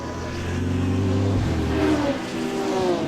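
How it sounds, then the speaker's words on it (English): Classic touring race cars accelerate past at Cadwell Park, a loud, close engine roar with rising revs and gear changes, one car following another as the note shifts across the track. "The best looking and sounding cars here this weekend."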